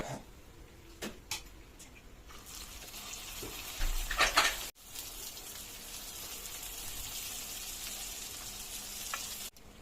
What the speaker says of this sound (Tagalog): Hanguin na rin po natin itong isa at magpiprito pa po tayo ng lumpia Shanghai.